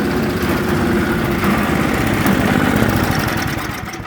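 A snow blower engine left sitting since spring runs at a steady, loud idle with a buzzing, slightly uneven chug, easing off a little toward the end.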